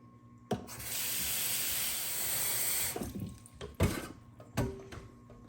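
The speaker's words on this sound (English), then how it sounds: "So let's add some water to this and we'll get going." Tap water gushes steadily into a canning pot for about two and a half seconds, then stops, followed by a few clanks and knocks of the metal pot being handled nearby.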